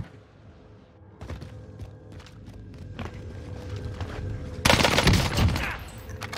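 Enemy gunfire in Call of Duty Warzone on Rebirth Island, sharp shots cracking in from a distance over game mechanisms, ending in a louder close burst of fire.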